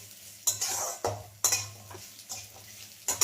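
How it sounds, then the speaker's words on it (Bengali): Raisins and chopped ginger frying in a pan, stirred in several distinct scraping strokes over a bright hiss of hot oil, close and fairly loud with no talking. "আমি এটা একটু নেড়ে নেব"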